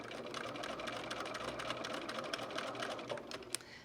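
A sewing machine stitches down the middle of rickrack trim on a felt Christmas stocking, a quiet steady rapid whirring hum that runs continuously without pause.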